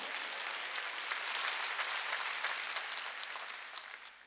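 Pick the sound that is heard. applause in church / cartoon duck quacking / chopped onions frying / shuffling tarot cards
applause in church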